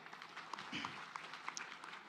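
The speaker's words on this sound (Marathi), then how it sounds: "आपणाला टाळ्या वाजवायला हरकत नाही" Faint, steady applause from an audience at an ambulance dedication ceremony, heard at a distance during a public speech with a voice over it.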